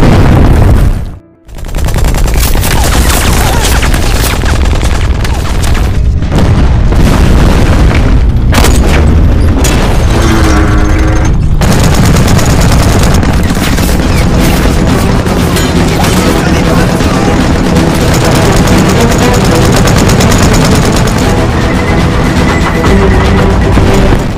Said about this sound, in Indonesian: Pertempuran dibuka dengan tembakan senapan anti-tank dari Uni Soviet dan tidak lama dibalas oleh tank tentara Jerman